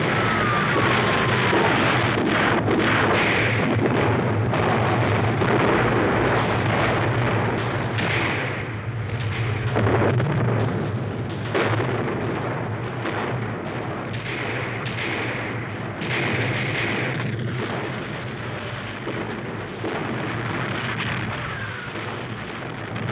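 An 88 mm anti-aircraft gun used as anti-tank artillery fires in heavy booms and thuds over a constant loud, noisy din of battle, with no talk.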